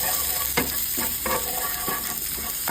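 Garlic sizzling as it fries in a pan for crispy kare-kare, a continuous close frying hiss broken by several short scraping stirs, with no one speaking.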